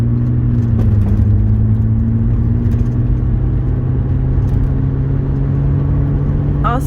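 From inside a manual-transmission car pulling away in second gear, a loud steady engine drone and road rumble hold nearly level, with a slight shift in pitch early on.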